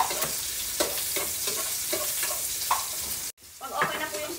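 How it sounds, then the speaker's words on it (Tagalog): Garlic and then onion sautéing in a home pan, a continuous close sizzle broken by repeated stirring scrapes, with a brief drop in the sound near the end before the frying resumes. "gisa tayo ng bawang. Sunod na natin yung sibuyas"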